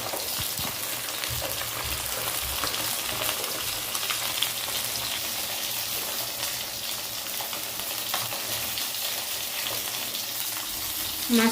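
Three whole folui fish fry in oil with a continuous crackling sizzle and occasional light spatter, close and even throughout, no voices.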